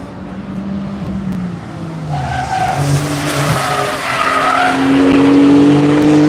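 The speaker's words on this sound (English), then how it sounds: "the Cunning Stunts Porsche is actually pulled a little bit out of that gap, as well as Andrew in the Team PGR Model S Plaid Edition" Race cars, including a Porsche and a Tesla Model S Plaid, scrub and squeal their tires through a corner during the Tire Rack One Lap of America event. Engine drone runs underneath and builds louder toward the end, with no talk.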